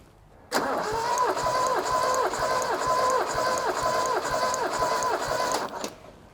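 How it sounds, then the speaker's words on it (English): Toyota Celica RA28 engine cranking over on the starter during a compression test, a steady rhythmic chug of about a dozen even compression pulses, loud and close, then stopping abruptly. "We don't need to crank this for 30 or 40 cranks."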